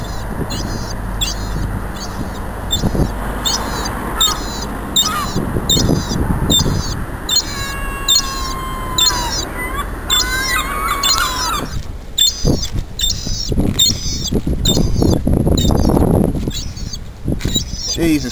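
Birds, likely gulls or crows, squabbling and calling while trying to snatch chips outdoors in Dartmouth, with repeated sharp caws and chirps over wind and handling noise, and a person talking throughout.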